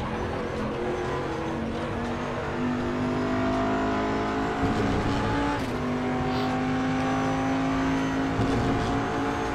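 A Porsche Cup race car engine in RaceRoom drones steadily at high revs, its pitch climbing and settling through gear changes, loud and continuous with no pauses.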